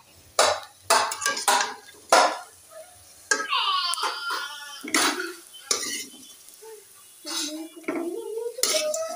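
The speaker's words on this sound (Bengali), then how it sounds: "বড়াগুলো লাল লাল করে উল্টিয়ে পাল্টিয়ে ভেজে নিচ্ছি" Lentil fritters (bora) are turned in a frying pan, with a series of sharp utensil clatters and scrapes against the pan. Soft voices murmur in between.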